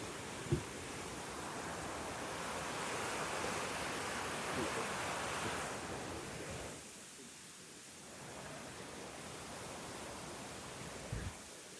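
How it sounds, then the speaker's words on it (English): Steady rushing water of a rain-swollen creek beside a bike trail in Springfield, Illinois, a broad continuous hiss that dips briefly midway before returning. "I'll show you guys this creek real fast if you can hear it because of all the rain."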